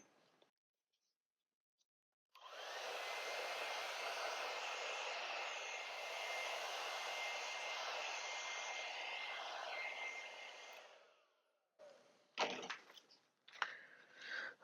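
A hair dryer blows steadily to dry paint on a painting, a loud continuous whoosh lasting about eight seconds before switching off, followed by a few faint handling knocks.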